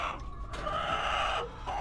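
Pet chickens cluck close at hand, a short run of throaty, rising calls with no talk over them.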